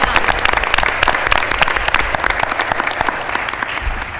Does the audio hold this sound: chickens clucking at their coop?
no